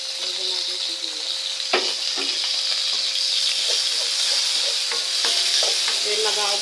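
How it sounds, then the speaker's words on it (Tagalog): Onions sauté in a pan for seafood pasta, sizzling steadily and close at hand with scattered clicks and scrapes of stirring throughout, and no voice is heard. "Sibuyas pala na. Lagyan natin sibuyas."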